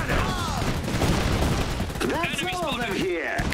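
Gunfire during a train station assault in Iron Harvest, dense bursts of rifle and machine-gun fire crackling throughout amid battle noise, with voices shouting over the shooting.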